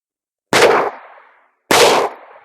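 Two loud, sharp gunshots from an Enfield double-action revolver, spaced about a second apart, each a close crack followed by a short decaying echo.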